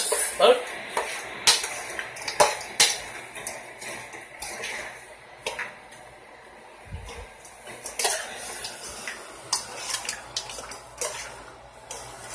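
Pheasant meat being stirred in a pot, with scattered clinks and scrapes of a utensil against cookware in uneven bursts, close by, alongside faint background noise and occasional voice sounds.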